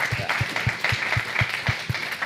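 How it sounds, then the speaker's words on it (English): Applause from a small audience for a startup award, a steady patter of clapping with sharp individual claps repeating at an even pace, moderately loud and without talk over it. "big round of applause"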